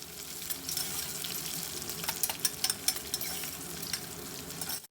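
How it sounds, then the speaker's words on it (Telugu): Onions frying in a pan toward golden brown give a steady, close hiss and sizzle with occasional crackles and faint stirring scrapes, with no voices. "ఇప్పుడు ఇది ఈ విధంగా ఫ్రై చేస్తున్నాము ఆనియన్స్ గోల్డ్ కలర్ వచ్చేదాకా"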